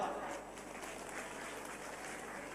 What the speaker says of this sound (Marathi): आता आनंदात असेल तर टाळ्या वाजवा